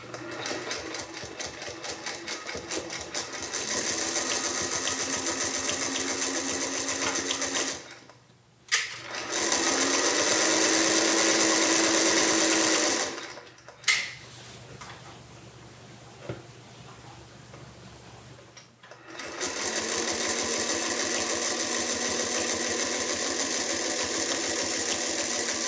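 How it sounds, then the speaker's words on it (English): A Featherweight sewing machine stitches fabric in close, rapid mechanical bursts, running steadily for about eight seconds, pausing, then resuming in shorter runs separated by quiet gaps. "I'm going to take it to my machine and stitch about half inch down."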